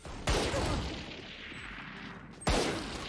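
Gunfire in the tactical shooter Valorant, two sharp bursts of shots with a quieter stretch between them, loud and close.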